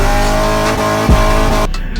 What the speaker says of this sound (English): It's a dope engine, and from yours, it makes a beautiful sound.